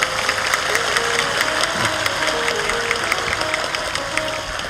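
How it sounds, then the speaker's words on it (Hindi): Audience at a religious storytelling discourse clapping loudly, a dense patter of many hands mixed with a few sharp individual claps, steady and close for the whole stretch. "जोरदार ताली बजनी चाहिए"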